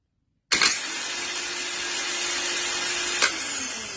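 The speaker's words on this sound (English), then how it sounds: "so I think the starter is working." A car starter motor runs as a steady, loud whir that kicks in abruptly after a moment of silence and holds for over three seconds, with a brief surge near the end.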